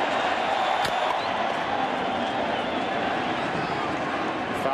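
A baseball stadium crowd at 2009 World Series Game 5 roars continuously after a Chase Utley home run. The cheering is loud and sustained, calling for a curtain call, with a broadcaster's voice over it.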